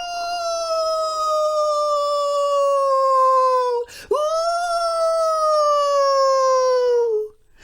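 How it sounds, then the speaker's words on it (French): A long wolf howl rings out in a children's story, a sustained, steady tone slowly falling in pitch, briefly broken by a short catch before a second drawn-out howl that trails off. "elle laisse sortir un long hurlement de loup."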